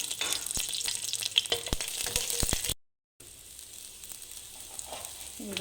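Garlic frying in hot oil in a pan gives a steady, close sizzle with crackling pops and occasional stirring scrapes, then a brief silent gap before a quieter sizzle continues; no one speaks.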